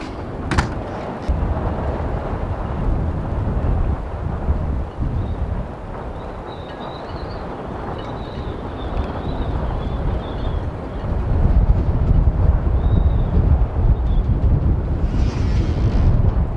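Nighttime storm wind buffeting a moored trawler, a continuous low roar with gusts that swell louder near the end, faint creaks and distant whistling tones over it.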